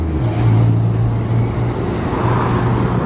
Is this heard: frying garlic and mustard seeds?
no